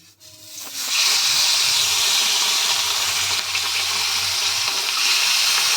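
Parshe fish frying in hot mustard-free oil in a heated wok, a steady loud hiss of sizzling that swells in after a brief quiet start and holds without talk.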